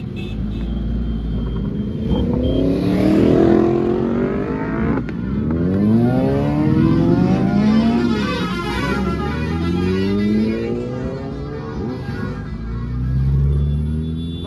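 A Kawasaki superbike revs hard on a road near Nagrota, its engine climbing and falling in repeated throttle sweeps, loud and close, with a passing vehicle rumbling underneath.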